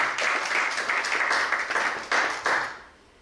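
Congregation applauding during a church service, a dense wash of many hands clapping with a few louder bursts of claps before it fades out at the end.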